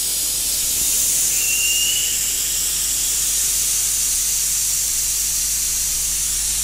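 Loud steady hiss of air rushing out of a large adventure motorbike tyre valve with the core removed, continuous and close, with one brief squeal early on and no talk.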